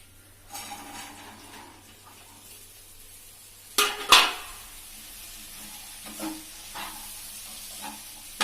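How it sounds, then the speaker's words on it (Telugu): Half a kilo of potatoes frying in a pan, heard as a soft background sizzle broken by a loud clatter of a utensil against the pan and a few later scraping stirs. "కొంచెం ఫ్రై అవ్వాలి, ఆలు ఫ్రై అవ్వాలి."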